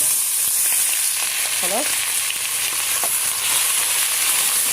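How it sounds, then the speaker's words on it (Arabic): Shrimp frying and being stirred in a pan with a sayadeya-style base for a Port Said shrimp madfouna, giving a loud, steady sizzle with occasional stirring scrapes; a voice speaks briefly. "هنجيب بقى الايه الجمبري وننزل كده"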